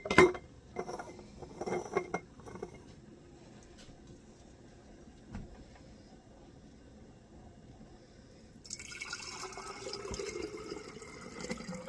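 Hamburger grease pours into a glass quart jar with a soft liquid trickle and a few glassy clinks near the start, then quiet handling, ending in a broader hissing pour.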